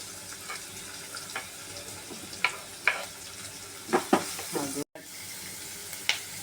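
Onions fry in coconut oil with ginger garlic paste, producing a steady sizzle close by with a few sharp scrapes and knocks of the stirring spoon.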